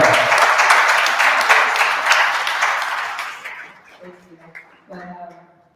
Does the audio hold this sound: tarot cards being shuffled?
no